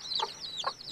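Baby chicks in a coop cheeping with rapid high trills, joined by a couple of soft nearby clucks from a hen.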